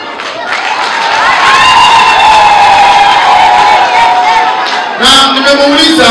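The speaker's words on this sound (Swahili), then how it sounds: "Mimi naomba hayo makofi mnayoyapiga uyapige kwangu" A crowd at a community gathering applauds and cheers loudly and steadily throughout, with whoops and shouting voices mixed in and a brief surge near the end.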